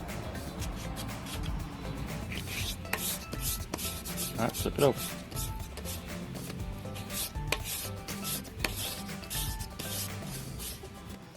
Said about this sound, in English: Now we're going to hand sand it with 220 grit.